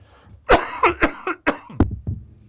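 A fit of harsh, close coughs, six or seven bursts in quick irregular succession, loud and alone.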